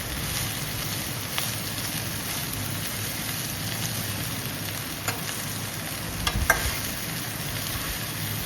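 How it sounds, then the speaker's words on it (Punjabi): Small desi okra, fresh from the field, sizzles steadily in a pan, a close, even hiss with a few sharp clinks as a ladle stirs it now and then. "ਬਸ ਹੌਲੀ ਹੌਲੀ ਆਪਾਂ ਕੜਛੀ ਮਾਰੀ ਜਾਂਦੇ ਆ ਵੀ ਥੱਲੇ ਨਾ ਲੱਗ ਜਾਣ"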